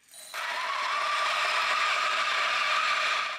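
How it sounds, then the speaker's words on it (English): A variable speed coffee grinder at its highest speed starts abruptly and holds a loud, steady high-pitched squeal with a whirring mechanical drone, running alone and close for a few seconds. "at the highest speed, this is a squealy grinder"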